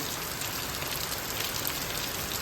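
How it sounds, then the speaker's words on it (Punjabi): Steady rain falls close by, a dense, even hiss of drops striking surfaces without pause. "ਮੀਂਹ ਪੈਂਦੇ ਨੂੰ ਹੋ ਗਿਆ ਤਕਰੀਬਨ ਅੱਧਾ ਪੌਣਾ ਘੰਟਾ"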